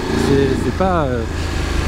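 A Voge DS900X motorcycle engine rumbles and vibrates steadily as it pulls again from low revs, heard close beneath someone talking.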